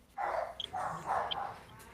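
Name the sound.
dogs barking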